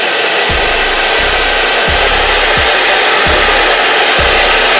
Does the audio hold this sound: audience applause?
no